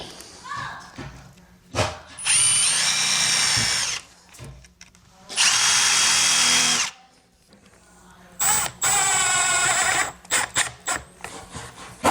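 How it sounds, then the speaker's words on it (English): A power drill whirs in three short bursts of a couple of seconds each, shallowly pre-drilling wood for screws, close up, with quiet pauses and small knocks between them. "And I'm pre-drilling,"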